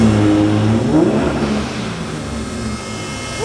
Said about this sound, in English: you can hear the blow-off valve